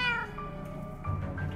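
Winslow the cat meows in Minecraft Story Mode, one drawn-out whiny meow followed by a shorter second cry, close and clear.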